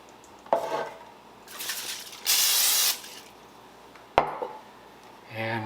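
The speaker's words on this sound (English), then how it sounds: "let me spray the pan real quick" Cooking spray hisses onto a bread pan in a home kitchen while rye bread dough is prepared, one steady burst lasting under a second amid brief clatter and handling noises, fairly close and alone.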